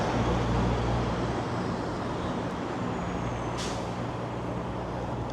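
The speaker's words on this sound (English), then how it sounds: "The Bay bus heading north" A northbound city bus on Bay Street in downtown Toronto idles and moves amid steady traffic noise, with a brief hiss of air brakes releasing partway through, heard from the sidewalk.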